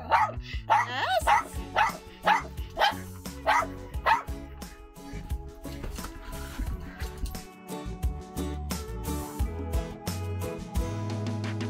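Dogs barking and yipping at an RV show with exotic animals, a burst of loud close barks at first, then ongoing yaps and whimpers amid background noise and some talk.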